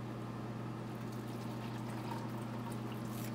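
Hot water pouring steadily into cups for a microwave dyeing process, a continuous soft trickling stream over a low hum, with no talking.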